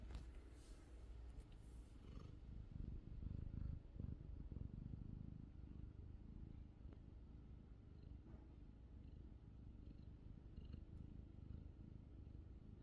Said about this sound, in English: But she is purring.